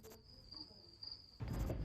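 Crickets chirp in a steady, continuous high-pitched trill, in a setting tied to cricket-fighting gambling in Indonesia; the trill is close and even, then gives way to a louder burst of noise near the end.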